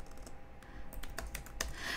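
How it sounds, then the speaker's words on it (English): Fingers tap on a computer keyboard in quick irregular bursts of clicks, close and fairly quiet, with no talking. "No, I was just typing into something to Ash."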